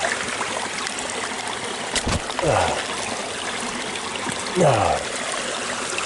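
Creek water trickling and splashing over rocks in a steady close babble, with a couple of brief louder splashes and a short spoken exclamation.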